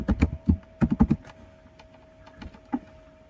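Someone types on a computer keyboard, producing quick clusters of close, crisp key clicks followed by sparser single taps.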